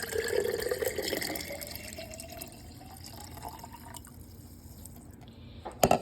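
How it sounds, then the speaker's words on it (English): Water is poured into a jar while making cheesy spaghetti, with a rising pitch as the jar fills, loudest at the start and fading to quieter trickles. "I've added the 2 cups of water."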